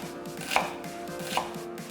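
A knife chops a quarter onion on a cutting board in a Korean kitchen, with quick, even close-up taps at a steady rhythm and two slightly louder strikes, and no voices.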